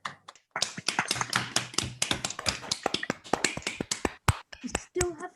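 A handful of participants clap one after another over an online call after a talk, a close, crisp run of sharp hand claps at uneven, overlapping rhythm with brief quiet gaps.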